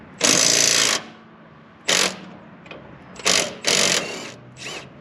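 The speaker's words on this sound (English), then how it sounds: "We're gonna use the little M12 impact." A Milwaukee M12 impact driver hammers in several short, loud rattling bursts separated by pauses, working alongside a Milwaukee pipe wrench.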